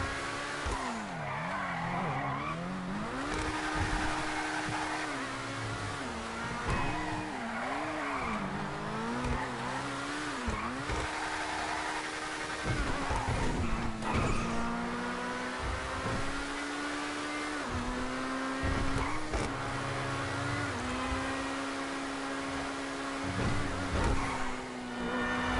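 A car in GTA 5 Online revs, drifts and skids continuously, its engine pitch rising and falling under long tire squeals, loud and close, with brief impact thumps and no talk.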